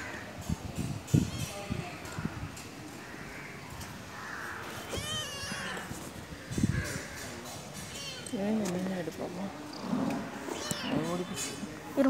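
A cat meows repeatedly while a boy plays with it, the calls rising and falling in several bursts and strained wails, mixed with close, busy talk from people nearby throughout.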